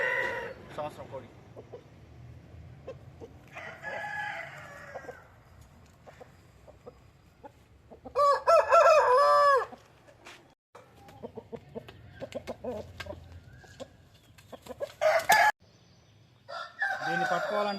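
An aggressive year-old rooster, about 3 kilograms, crows loudly and close by in several bursts, with quieter clucking and a person talking in between.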